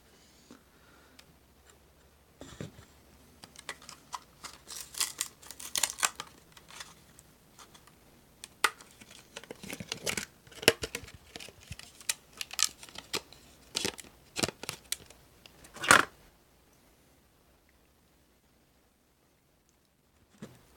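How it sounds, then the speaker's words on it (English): Crinkling plastic packaging and sharp clicks as RAM memory modules are unboxed, a busy irregular run of snaps and rustles that fades to near silence at the end, close by with no talking. "make sure you unbox your RAM"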